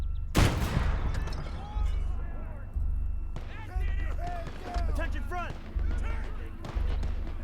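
Gunfire from the World War II strategy game Gates of Hell: Liberation during a defense at Cisbecq: one loud close shot opens a busy battle mix of distant rifle fire and chatter, with voices talking throughout.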